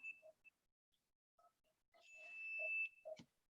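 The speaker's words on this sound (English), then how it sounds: "I can hear a chime" A timer chime sounds during a final pitch presentation at an impact hackathon, a sustained bright electronic tone lasting about a second, set among short faint blips and bits of distant speech.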